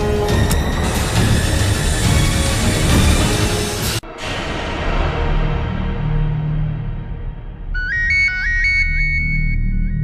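A phone ringtone plays loudly and continuously, first as a dense musical tone, then briefly breaking before resuming with a bright repeating melodic ring pattern toward the end, with no speech.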